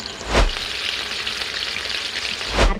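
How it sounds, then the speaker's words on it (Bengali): Pointed gourd frying in hot oil gives a close, continuous sizzle, broken by two low dull knocks near the start and end as the pieces are lifted from the oil. "পটলটা ভাজা হয়ে গেছে এখন পটলটা আমি তেল থেকে ছেঁকে নিচ্ছি"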